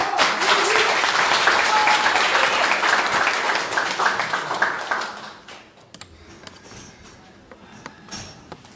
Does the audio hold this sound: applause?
yes